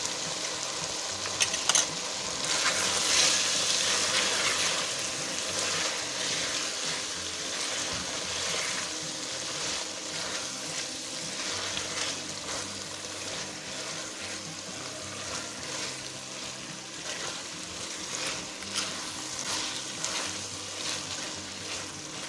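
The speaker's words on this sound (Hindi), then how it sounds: "ये 2 सब्ज़ मिर्चें बीच में से काट लगाए हैं, इन्हें डाल के इसमें हम भूनेंगे।" Green chillies and vegetables for aloo tinda sabzi, with a little mango pickle, sizzle and crackle steadily in hot oil, a continuous close frying hiss with occasional stirring scrapes and no talking.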